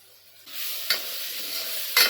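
Spices including Kashmiri red chili powder sizzling in a pan for veg pulao, a sudden steady hiss that rises mid-clip with two brief spatula scrapes as the mixture is stirred.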